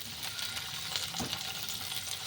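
Cut potatoes fry in hot oil, a steady bright sizzle filling the pan with soft crackles and a faint stir partway through, with no talking over it.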